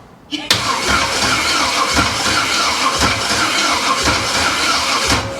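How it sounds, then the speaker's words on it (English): A budget-rebuilt engine in a 1968 Chevrolet Camaro cranks over slowly with a rhythmic chugging after a sharp start, loud and close, the starter pulsing about once per second. "Crank's a little slow. It's making a bit of a noise there."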